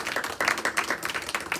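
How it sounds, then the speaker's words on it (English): A small audience claps at a talk, with a short burst of uneven, fairly close hand claps and no speech. "I'll take some applause."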